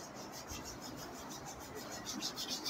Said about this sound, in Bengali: হাত ঘষে নাও